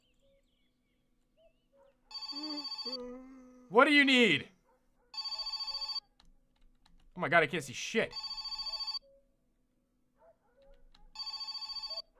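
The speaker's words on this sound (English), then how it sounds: "my phone's ringing." A phone rings in the My Summer Car video game, sounding as four evenly spaced electronic bursts. Someone talks between the rings.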